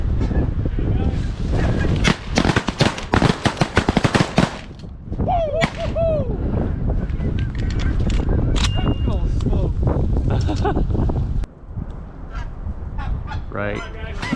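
Shotgun blasts ring out at geese during a 2021 goose hunt, a rapid cluster of sharp reports mixed with loud, near goose honking that carries on afterward, with voices of hunters calling out.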